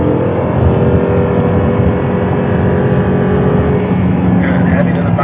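Audi R8 sports car accelerating hard out of a corner on a track, a loud, steady engine roar building continuously under an instructor's talk.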